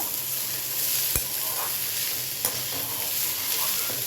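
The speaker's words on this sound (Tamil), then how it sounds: "இது இஞ்சி இருக்குது பாருங்க, கொஞ்சம் வதங்கட்டும்." Pieces of ginger sauté in a pan with a constant, close sizzle and a couple of sharp clicks from stirring. No one speaks over it.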